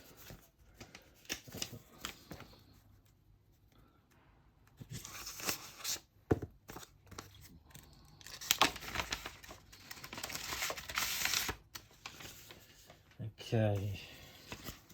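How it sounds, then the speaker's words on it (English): Paper from a mailed envelope rustles, crinkles and tears up close as it is handled and opened, with soft crunching bursts and a person talking intermittently. "okay, we've got it open. Let's see, there's an envelope here."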